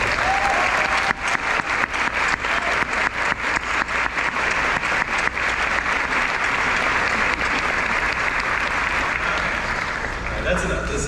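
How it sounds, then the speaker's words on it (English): A graduation crowd at Ashland Paul Blazer applauds the faculty, loud rhythmic clapping that builds quickly, holds steady and fades near the end. "Let's give one more round of applause for our wonderful faculty."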